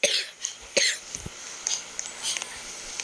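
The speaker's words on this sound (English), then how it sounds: "I'm about to cough." A couple of sharp, close coughs, one at the start and another shortly after, followed by a few softer throaty bursts.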